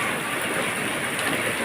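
Heavy rain pours steadily with gusting wind, a dense, continuous hiss and patter close by with no other sounds on top.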